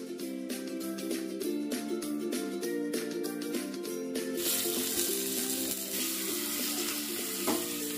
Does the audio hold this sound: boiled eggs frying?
yes